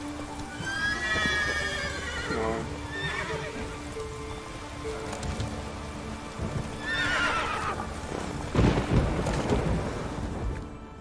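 A horse in The Witcher 3 whinnies loudly near the start and again midway, with hooves clip-clopping and rain falling over a steady game ambience; no one speaks.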